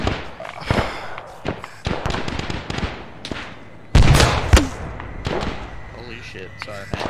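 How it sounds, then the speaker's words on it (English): Grenade fired from a launcher in Arma, erupting in a loud, sharp blast around midway, then a second thud shortly after, amid scattered gunfire pops and distant battlefield rumble. "Let me shoot a grenade over there."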